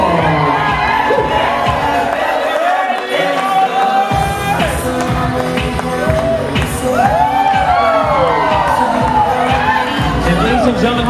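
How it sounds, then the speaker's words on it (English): Wedding guests cheer, whoop and shout loudly as the bridal party makes its entrance, a close, lively crowd roar that continues throughout. "But a big round of applause for Alicia O'Mara, escorted by Dan Sharifapa"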